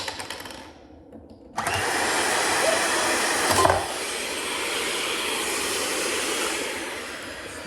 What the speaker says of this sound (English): It's gonna mix up, it's gonna make some noise.